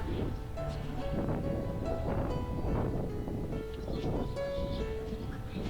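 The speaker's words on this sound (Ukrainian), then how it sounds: "Дуже сильний вітер сьогодні." Strong gusty wind buffeting the microphone outdoors in winter in Truskavets, Ukraine, with faint background voices and distant city sounds mixed in.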